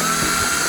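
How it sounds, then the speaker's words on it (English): A power drill boring a hole through the joint of a 3D-printed lamp cage, a short steady whine held at constant pitch for under a second, close and alone. "I'm going to need to drill a hole in the joint of the cage so that the wire can come up through it"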